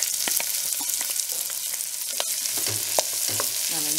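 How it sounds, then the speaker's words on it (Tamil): Onions fry in hot sesame oil for mutton bone kuzhambu, a steady loud sizzle with scattered clinks and stirring scrapes of the spoon in the pan. "வெங்காயம் போட்டுருவோம்."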